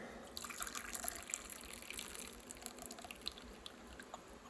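Hot tea is poured steadily from a small vessel, making a soft, continuous trickle with faint dripping and splashing that carries on throughout at low volume.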